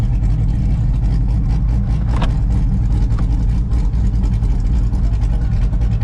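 Chevrolet Camaro ZL1 running with an open header dump, a loud, raw, steady engine drone close to the car during a drive, with brief raspy spikes partway through.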